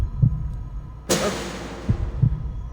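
Low, muffled heartbeat thuds pound a few times in the Reverse 1999 video game, interrupted by a sudden bright whooshing burst midway.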